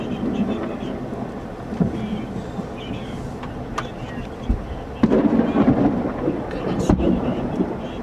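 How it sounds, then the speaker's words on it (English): Thunder from a severe lightning storm in northern Oklahoma: low rumbles and sharp cracks rolling in over steady rain-like background noise, growing louder in the second half. "Wow, that lightning is so bad."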